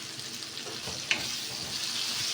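Spices sizzle in oil in a pan for a Moroccan shrimp dish, a steady close frying crackle with a small clink partway through.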